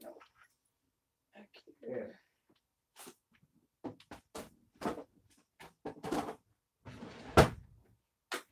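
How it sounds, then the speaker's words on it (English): Household drawer opened and rummaged through while searching for a Call of Duty game case, with scattered knocks, rattles and sliding clunks, some loud and close, amid intermittent voices and a dog's whimpers. "It's in that drawer somewhere."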